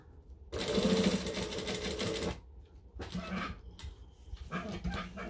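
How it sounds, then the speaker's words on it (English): Sewing machine top stitching along fabric at a long decorative stitch length, a close whirring run that stops briefly and then resumes in shorter bursts. "And then I'm just going to top stitch along."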